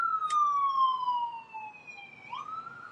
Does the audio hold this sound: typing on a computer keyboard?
no